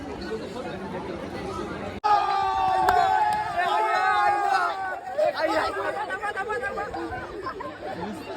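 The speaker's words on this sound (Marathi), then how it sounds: "गर्दी बघा मंडळी ही लाईन आहे मुखदर्शनाची" Dense crowd chatter and babble from pilgrims queuing for darshan of the Lalbaugcha Raja idol, loud and close throughout, with overlapping voices and an abrupt swell after a brief cut.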